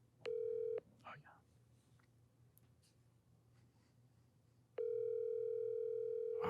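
A phone on speakerphone plays a short dial tone, then a pause with faint rustling and a brief voice, then a longer, louder ringback tone near the end.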